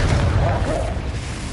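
A Confringo fire spell bursts in the Hogwarts Legacy video game, a dense low rumbling blast that fills the short moment, close and loud.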